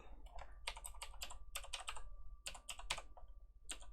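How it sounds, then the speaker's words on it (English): Keys clack on a computer keyboard in uneven bursts as a link is typed, close and fairly quiet, with short pauses between groups of keystrokes and no talking. "I'm going to type the link, so bear with me."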